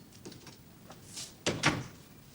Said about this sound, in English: Close the door, Rennet